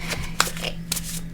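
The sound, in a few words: shuffling a tarot card deck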